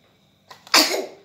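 A single sharp sneeze bursts out close by after a brief quiet intake of breath, loud and sudden, then trails off.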